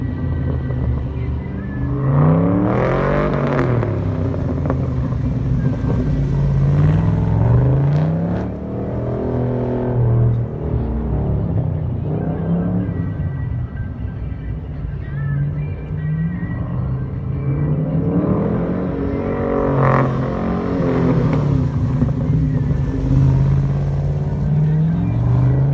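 A black-on-black Corvette with an LS7 V8 accelerates hard down a drag strip in a Goodguys Scottsdale shootout, its engine a loud, sustained roar that rises and falls through the gears, with an announcer talking over it.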